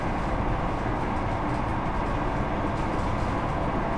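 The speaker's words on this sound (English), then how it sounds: "Let's just get on with driving this train." An East Midlands Trains Class 158 diesel unit runs on the Leicester to Lincoln line in Train Sim World 5, a steady loud cab rumble with rolling wheel noise and no talking.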